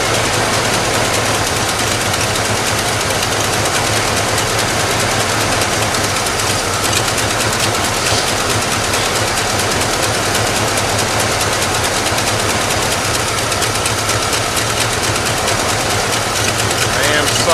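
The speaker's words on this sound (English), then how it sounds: "this engine actually sounds pretty good. No clacking, no rod knocking" A 1984 Ford F150 truck engine idles steadily and loudly, running on old fuel with a smooth, even drone and no clacking or knocking throughout.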